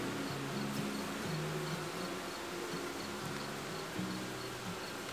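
Honeybees in a Flow Hive, a dense, continuous buzzing drone from many insects close up, steady and fairly loud throughout with no talking.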